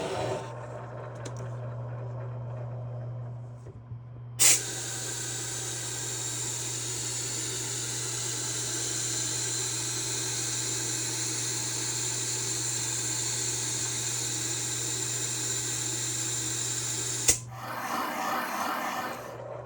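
A power cutter grinds steadily while cutting valve seats in an engine cylinder head, running as one long continuous whir for about thirteen seconds before stopping, with a low hum beneath.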